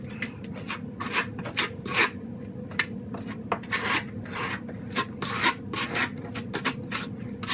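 Repeated scraping strokes of material being pressed into the seams of concrete backer board for a shower, a steady rasping rub at close range with short bursts, no voices.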